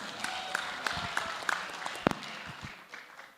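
Audience applause for mayoral candidates at a public debate in Manado, steady moderate clapping from a crowd, slightly distant, fading out toward the end.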